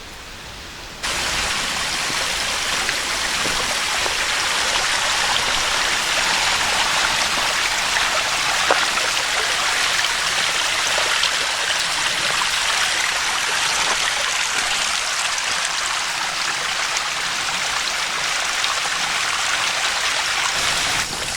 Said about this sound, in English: lots of beautiful little mini waterfalls